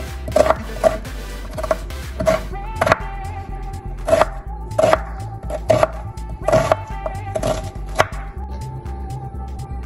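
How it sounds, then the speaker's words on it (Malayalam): An onion being finely chopped with a knife on a board, with crisp, evenly spaced cuts sounding close and clear, steady through the whole stretch with no talking. "നമുക്ക് സവോള ചെറുതായിട്ട് അരിഞ്ഞെടുക്കാം"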